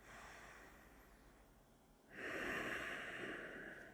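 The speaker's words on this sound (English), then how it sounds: "keep the breath rolling in and out, but this time just breathing through your nostrils" A person breathes in and out through the nostrils during a morning yoga routine, a soft nasal inhale followed by a louder, fuller exhale about halfway through, close and quiet with no talking.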